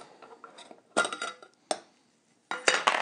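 A metal can of wood stain being opened, with a few sharp metallic clinks and scrapes in separate bursts, close and fairly quiet, with short silences between them.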